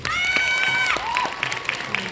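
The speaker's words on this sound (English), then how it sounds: "Can we have a big round of applause?" Audience applause for contestants at the Mrs Arunachal pageant during its traditional and gown round, a brief busy spatter of claps under music, with sustained tonal notes and a sliding tone on top.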